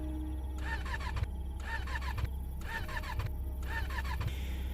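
A motorcycle engine cranks repeatedly in short bursts, sputtering and whirring four or five times without catching, loud and close.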